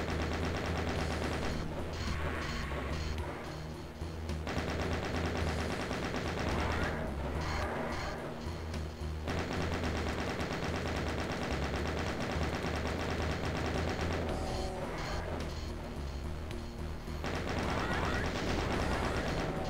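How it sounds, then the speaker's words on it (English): A video game chain gun fires long rapid bursts in a tomb level, loud continuous rattling volleys that stop and restart several times, with short pauses between. "that's why I'm using chain gun here."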